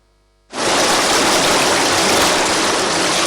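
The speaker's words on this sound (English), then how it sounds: "Sounds of gushing water at the cut-off point here at Abamfru." Floodwater gushes loudly at a cut-off point on a main road at Abamfru, a dense roaring rush that starts abruptly after half a second of quiet and continues steady and close.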